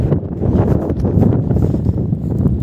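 Gusty wind buffeting the microphone outdoors in rough weather, a loud, continuous low-pitched rumble with irregular surges and no speech.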